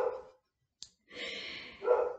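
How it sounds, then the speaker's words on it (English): Pet dogs barking indoors at a passer-by outside, a short burst at the start and a louder, longer run of barks near the end, with a sharp click in between. "my dogs are barking and I'm sure you can hear them."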